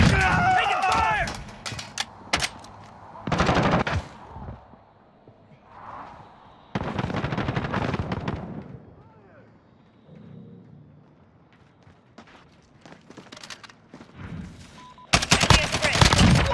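Modern Warfare gunfire from US Army Rangers in urban combat, including a Scar-17 rifle: sharp bursts and volleys come in clusters with quieter gaps between them, and voices speak in the lulls.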